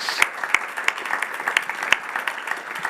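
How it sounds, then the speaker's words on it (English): An audience at an Innovate 4 Nature panel event in Lausanne claps for four panelists, a moderate spread of applause with a few sharp, close individual claps standing out above the softer crowd clapping. "So I'd like to give a big applause to our 4 panelists"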